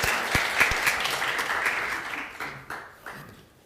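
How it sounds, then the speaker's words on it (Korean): Church congregation at a Sunday service applauding in welcome for visiting family members, a warm burst of clapping that gradually thins and fades out with a few last claps. "환영의 박수 해드리겠습니다"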